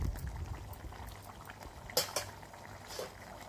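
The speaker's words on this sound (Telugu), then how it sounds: "10 నిమిషాల తర్వాత చూసారా, కూర అనేది ఇలా ఉడుకుతుంది." Onion, drumstick and egg curry simmers in a pot, a soft, faint bubbling with scattered small pops and one brief louder gurgle near the middle.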